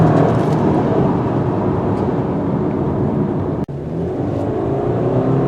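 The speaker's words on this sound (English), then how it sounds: "You hear that droning, called the CVT drone. It sounds like an outboard motor." A 2019 Subaru Forester with a CVT transmission drones steadily under full-throttle acceleration, a constant, even, engine-like hum heard from inside the cabin with no voices.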